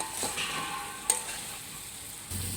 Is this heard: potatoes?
yes